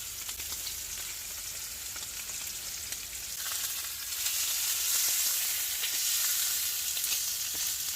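Beef sizzles steadily on a charcoal grill, a bright crackling hiss that swells louder partway through, with no talking.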